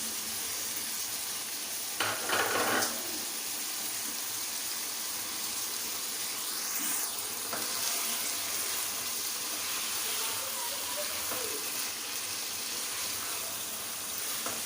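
Keema masala with green chilies sizzles steadily in a pan, a dense continuous frying hiss. A few brief scraping stir noises rise above it, with no talking.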